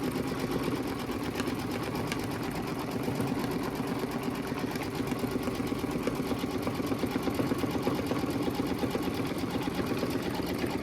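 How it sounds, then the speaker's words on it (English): An embroidery sewing machine runs steadily at speed stitching a quilt block, a continuous close rapid mechanical whir and needle chatter with no pauses. "Oh, it's doing some type of triple stitch."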